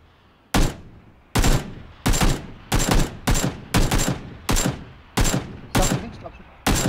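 Gunfire in the shooting game PUBG: about a dozen sharp, loud reports at a steady pace of roughly one every half second, each with a short decaying tail, with no talk.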